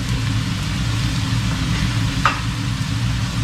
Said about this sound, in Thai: เยอะน้ำมันตามขอบกระทะลงไปนิดนึงนะครับ